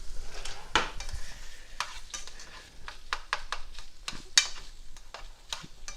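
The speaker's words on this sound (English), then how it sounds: "And then I'm just gonna put that tofu in, and we are going to" Tofu frying in a pan with light scraping stirs, a steady soft sizzle under repeated utensil clinks and scrapes, close by with no talk.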